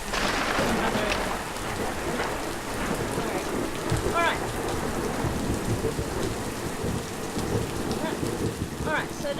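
Steady rain falling in the video game Cinema Rosa, a constant hiss of drops on surfaces with occasional brief chirping accents, moderately loud and without talk.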